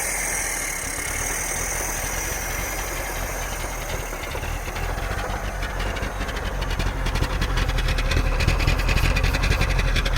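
A 1982 Datsun 720 4x4 pickup engine idles roughly nearby after carburetor work, with a steady, slightly sputtering rumble that grows a little louder and more rattly toward the end.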